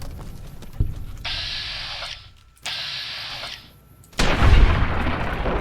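Gunfire from the video game Fallout New Vegas: a sharp shot, then two sustained bursts of loud rapid automatic fire separated by a brief pause, closing with a heavy booming blast.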